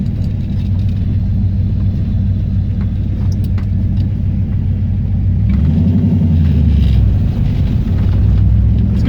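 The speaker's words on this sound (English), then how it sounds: "Drives so well, though. Just comes right off a stop," A V8 car running on a lawn mower carburetor pulls away from a stop, with a loud, continuous low engine rumble and road noise heard from inside the car, no talking.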